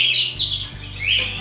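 Pet birds in breeding cages chirp and tweet in quick, high, sweeping calls that stand out over a steady low hum.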